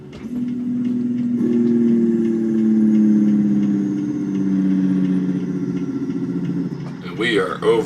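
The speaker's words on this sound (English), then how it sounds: "And we are over revving." Truck engine over-revving, a strong droning roar whose pitch climbs and holds, then slowly sags, loud and close, ending in a burst of rattling and hissing.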